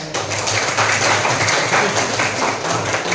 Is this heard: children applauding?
yes